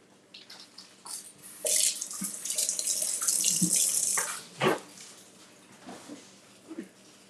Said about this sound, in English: I'm just gonna get a handful of blueberries and just rinse them off